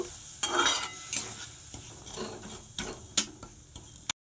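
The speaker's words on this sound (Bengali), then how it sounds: "তো গুড়টাকে এখন আমি একটু মেল্ট করে নেব।" A spoon scrapes and taps in a pan as jaggery melts with a little water for til naru, making soft, uneven stirring scrapes with light clinks, close and alone.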